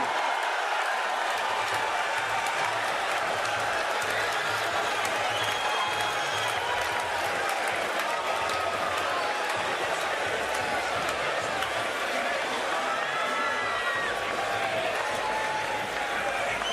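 Dense arena crowd at the 2009 NBA Draft cheers and applauds loudly after the sixth pick by the Minnesota Timberwolves, a steady roar of voices and clapping that fills the whole stretch.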